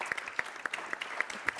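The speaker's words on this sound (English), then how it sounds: "with a lot of applause, I'd like to bring up on stage Mavis Owusu-Gyamfi" Sparse, scattered handclaps from a conference audience welcoming a moderator onto the stage, individual claps distinct and fairly quiet in a reverberant hall.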